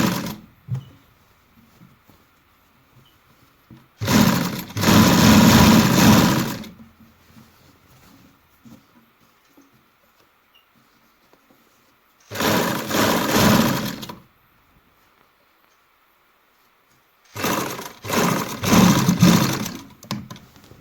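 Sewing machine stitching the edge of a baby boy's kurta, three separate loud whirring bursts of a few seconds each, split by quiet pauses.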